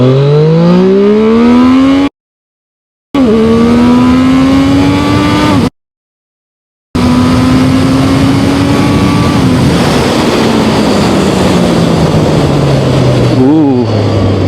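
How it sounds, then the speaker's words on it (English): A Zontes 703RR motorcycle engine drones loudly while riding, its pitch climbing and then falling with a steady buzzing tone and rushing wind, broken by two short silent gaps. "I hear some buzzing coming from the engine"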